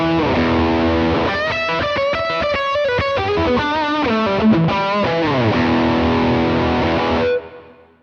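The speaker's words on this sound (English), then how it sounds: "Here's the sound of the pod using the internal speaker emulations." Heavily distorted electric guitar through a Line 6 POD amp modeler using its internal speaker emulations plays a chugging riff with sustained chords. The sound is loud and continuous, then cuts off sharply near the end.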